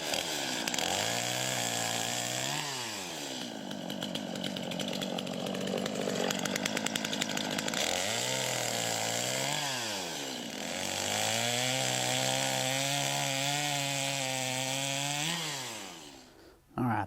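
A chainsaw cuts through hickory firewood logs, its engine snarling loudly and bogging down in repeated long cuts, pitch dropping under load and rising again between passes, close by with no talking.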